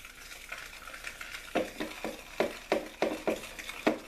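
A spoon stirs a vanilla pudding mixture in a pot while eggs are being tempered, giving a quiet scraping at first and then a steady run of sharp, rhythmic scrapes about every third of a second, close and with no talking.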